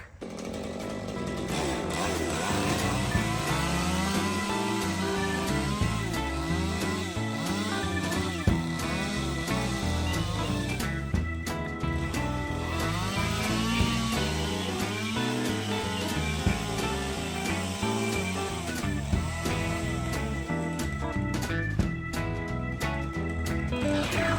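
A chainsaw carves into a pumpkin, running continuously and loud for over twenty seconds. The engine pitch rises and falls in repeated swells as the chain plunges and cuts.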